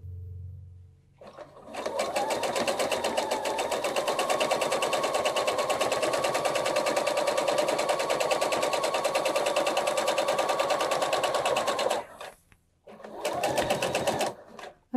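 A sewing machine stitches a quilt binding seam, running steadily and loudly for about ten seconds, stopping briefly, then starting again for a short second run.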